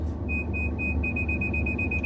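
Rear parking sensor of a 2025 Isuzu MU-X LS-E 4X4 SUV: a rapid series of sharp, high-pitched beeps that speed up into a continuous tone, loud over low cabin hum.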